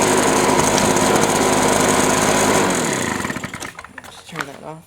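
A Husqvarna 130BT backpack leaf blower engine runs loud and steady for a few seconds, then shuts off and winds down while a person starts talking.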